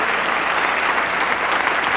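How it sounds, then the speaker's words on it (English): Audience applause at a 1985 televised comedy tribute, a dense, steady wash of clapping from a large crowd filling the whole two seconds. "Yes, we should applaud."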